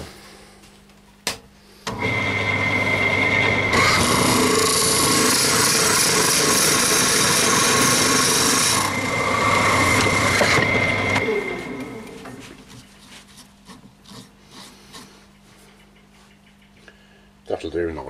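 A Forstner bit boring into a spinning laurel wood blank on a woodturning lathe makes a loud, steady whirring grind that runs for about nine seconds, then slows and fades into quieter scraping and hum.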